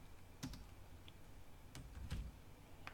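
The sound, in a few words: typing on a computer keyboard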